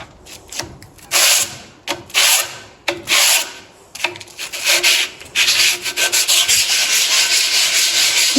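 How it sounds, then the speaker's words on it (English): Brake pads from an F1 rally car being scrubbed by hand, giving loud, close rasping strokes in short bursts that settle into a steady continuous rub toward the end. "Cleaning the brake pads up now."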